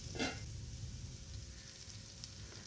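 Pointed gourd (potol) frying in a pan sizzles softly and steadily, a quiet constant crackle with no talking.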